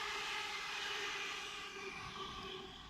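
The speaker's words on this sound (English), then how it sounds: "that train seems to be slowing down because it's going to make a quick stop at Clapham Junction" A South Western Main Line Class 450 electric train passing Earlsfield station and slowing, a steady broad rumble with a whining motor tone that eases slightly over a few seconds, fairly quiet and distant-sounding, no voices.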